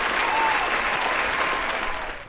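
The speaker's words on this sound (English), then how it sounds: "Can I get an applause please?" Applause from a group, a steady wash of many hands clapping, fairly loud and even throughout before tapering slightly at the end.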